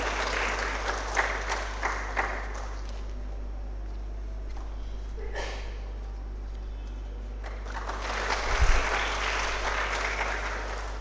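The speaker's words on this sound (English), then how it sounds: "Let's give him everybody a round of applause." Audience applause fills a hall at an MBBS orientation day at GIMS Kalaburagi, steady clapping at first, thinning in the middle, then swelling again near the end over a low electrical hum, with no talking.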